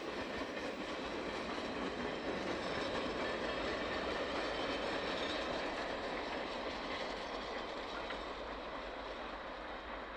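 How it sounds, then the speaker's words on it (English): A freight train with a Department of Defense caboose at the rear rolls steadily past, a continuous loud rumble with rhythmic wheel clatter and faint squeal that fades slightly toward the end, with no talking. "Michael and I were sitting here in Bristow waiting for this Department of Defense caboose bringing up the rear of 13R that day."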